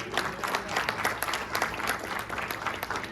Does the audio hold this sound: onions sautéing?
no